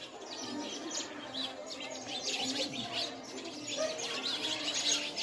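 House sparrows chirp repeatedly from a lemon plant in the evening, a busy overlapping flock of short tweets at moderate distance over faint background noise.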